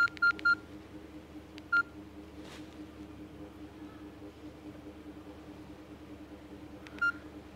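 Phone keypad dialing tones chirp as a call is placed to a lost phone: a quick cluster of short beeps, then one more beep and another near the end, over quiet room hiss.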